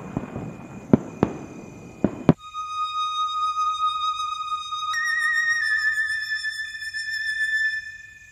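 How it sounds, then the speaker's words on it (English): Four sharp firework bangs in quick succession, followed by sustained high whistling tones that shift pitch and hold steadily to the end. "The fireworks."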